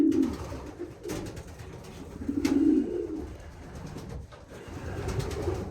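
Low, throaty coos from a two-month-old pigeon repeat in soft rolling phrases, close by, with faint rustling and a few clicks in between.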